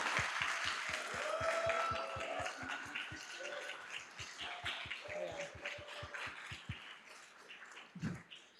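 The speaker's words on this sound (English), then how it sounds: "Let's give them a round of applause" An audience at a sustainability and entrepreneurship anniversary celebration claps steadily and loudly, the sharp claps falling in a fairly even rhythm, with some voices mixed in, before the clapping thins out near the end.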